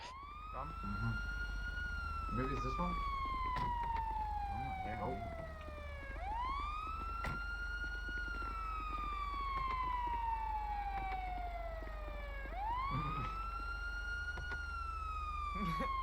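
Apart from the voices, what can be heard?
sirens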